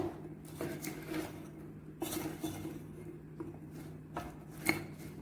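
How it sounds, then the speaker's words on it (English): Popcorn stirred in a pot, a quiet string of irregular metallic scrapes and clinks of the utensil against the pot over a low steady background hum, with no talking. "Stir it up properly until all gets mixed up well."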